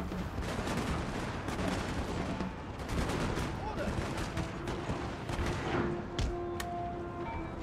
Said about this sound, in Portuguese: O canhão, vou continuar atirando aqui.